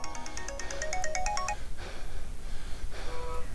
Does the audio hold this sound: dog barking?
no